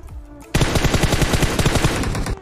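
Rapid automatic gunfire in a shooting video game erupts abruptly after a quiet moment, a loud, dense string of shots hammering steadily for about two seconds.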